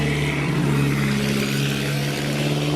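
An Austin 7 with a Jameson side-valve engine and a large vertical blower runs loud and close at an Austin 7 centenary festival, a steady droning engine note that rises slightly at first.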